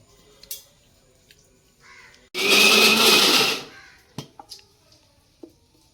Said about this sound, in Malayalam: വെല്ലവും തേങ്ങയും മിക്സിയിലിട്ട് അടിച്ച് എടുത്തിട്ടുണ്ട്